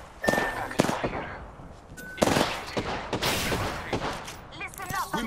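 Gunfire in the video game Apex Legends, with scattered bursts of sharp shots at moderate distance among other game noises and faint voice fragments.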